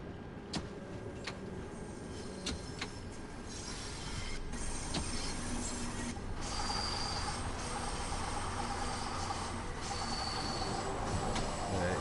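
A train in Train Sim World 2 brakes hard on a curve along a London-area Underground/Overground route, with scattered clicks and squeals over a steady rolling rumble that grows louder partway through, with no voices.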